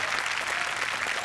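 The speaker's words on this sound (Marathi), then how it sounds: "जोरदार टाळ्या शान सरांसाठी झालं पाहिजे." Studio audience applauding steadily in a Marathi television comedy show, a dense continuous clapping crowd heard close and loud throughout.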